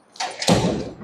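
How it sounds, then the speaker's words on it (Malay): A door with a doorknob lock swings shut with a firm thud and a quick latching click, close and loud, with no talking. "just tutup pintu"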